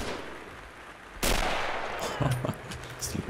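Gunfire in the World War II shooter game Red Orchestra: Ostfront 41-45: one sharp, loud shot cracks out, followed by a few shorter, fainter pops over a low battlefield rumble.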